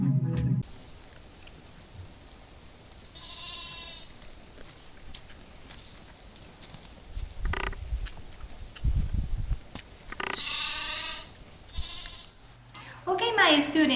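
A goat bleats several times on a farm, wavering cries rising out of a quiet, hissy background, with some shuffling and thumps between calls and a voice near the end.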